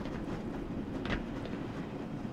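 A tram in the video game Black Mesa rolls along rails with a steady low rumble and faint rhythmic clatter, continuous and moderately loud throughout, with no voices.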